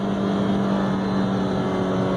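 A VW Golf engine pulls hard after paddle-shifted downshifts, a steady droning roar with a strong low hum, close and loud throughout, without any speech.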